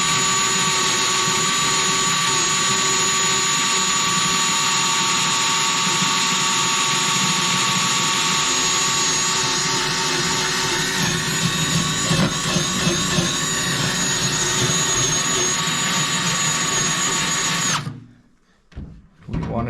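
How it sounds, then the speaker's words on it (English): A power drill fitted with a bigger drill bit whines loudly and steadily for most of the stretch, with grinding, chattering bursts toward the end, then cuts out abruptly into near silence. "So we have changed to a bigger drill bit."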